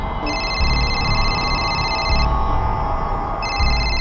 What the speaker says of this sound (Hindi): भाभी जी का फोन है